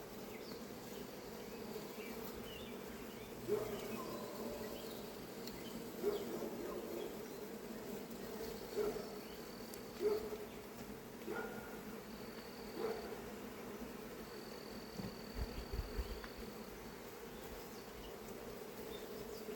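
Honeybees buzz quietly in a beehive with a steady, low hum, with a few brief louder passes of single bees near the microphone and faint handling noises.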